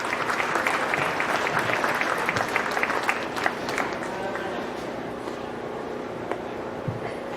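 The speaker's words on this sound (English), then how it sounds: "Give all the exhibitors a nice round of applause on a nice set of heifers." Audience applause at a county fair beef cattle show after a class of heifers, a dense, steady wash of clapping lasting throughout, loud and sustained with scattered crowd noise underneath.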